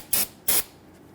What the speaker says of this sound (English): Use a little bit of spray solvent to clean up that bleeder.